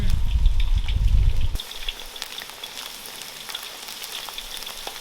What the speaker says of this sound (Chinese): 来尝下酥肉，马上要炸好了